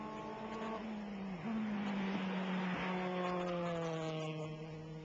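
A 2006 Club F3 single-seater race car sweeps past at Oulton Park, its high engine note holding steady and loud with a slight pitch drop and shift partway, dappled sunshine over the circuit; no voices audible over the engine.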